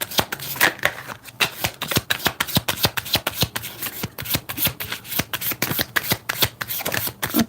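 A deck of tarot cards is shuffled steadily by hand, a run of crisp, close riffling snaps and soft slaps repeating in an uneven rhythm.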